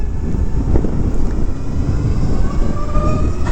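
A 2022 Zero FXE electric motorcycle at Sonoma Raceway pulls hard under acceleration, giving a steady, loud rushing drone of wind and road noise with a faint rising whine and no voices.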